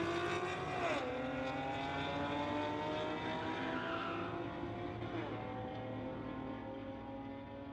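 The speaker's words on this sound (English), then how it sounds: "2011 Infiniti, going against a Dodge in the TCS lane" A 2011 Infiniti launches down a drag strip against a Dodge, engines roaring loud with rising then dropping pitch as they accelerate and shift, tires briefly squealing, the roar fading slightly as the cars pull away.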